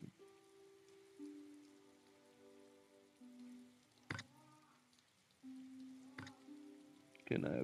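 Steady rain patters throughout in the survival game LOST in Blue, a soft even hiss under sustained tonal music, with a couple of sharp louder hits near the middle and end.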